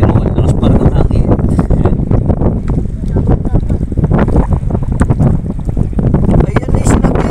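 Strong wind roars continuously over open sea from a small handline fishing boat near a mountainous shore, loud broadband buffeting with engine and water noise throughout and no clear voices.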